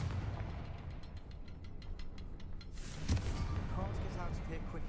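Confringo spell blast in Hogwarts Legacy, a single booming explosion at the midpoint over a constant rumbling game background, with crackling debris after.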